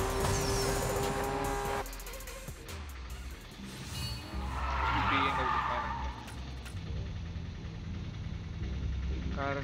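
A fast BMW car in a Need for Speed racing game skids hard, its tires screeching over a roaring engine. Whooshes and loud, shifting road noise run through the whole stretch.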